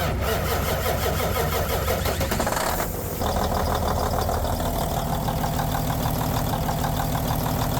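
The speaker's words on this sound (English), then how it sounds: "when I started it, I had the big middle finger yellow light, check engine lights" A Detroit Series 60 diesel in a semi truck cranks with a loud, rhythmic starter churn, catches around three seconds in, and then settles into a steady, rumbling idle close by.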